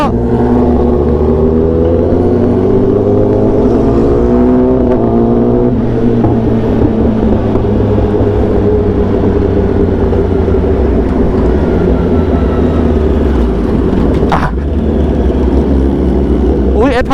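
A big bike motorcycle pulls away hard from a red light at night, its engine roaring loud and close with a rising pitch as it accelerates, while voices talk over the noise.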